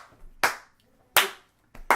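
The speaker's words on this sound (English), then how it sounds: "We should just clap a couple times to synchronize all the sound" Three sharp, close hand claps, spaced unevenly over two seconds with quiet gaps between, used to sync sound in a podcast recording setup.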